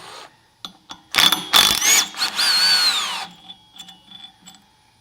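A burst of metallic ratcheting and whirring from a power tool removing the pulley nut on a riding mower, loud for about two seconds, followed by scattered small clicks and clanks.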